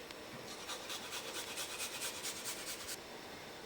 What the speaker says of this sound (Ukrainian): Натираю часничок.